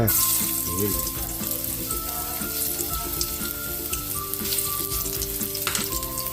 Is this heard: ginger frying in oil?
yes